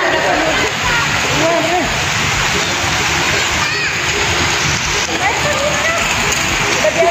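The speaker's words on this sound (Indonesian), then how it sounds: "Deras banget hujannya." Heavy rain pours down outdoors during a car free day walk in central Jakarta, a loud, dense, unbroken roar of splashing water with a voice speaking faintly beneath it.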